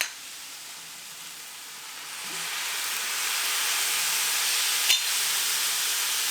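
Home-canned, homegrown diced tomatoes hit a hot pan and set off a broad, steady sizzle that swells and stays loud, with a brief clatter near the end.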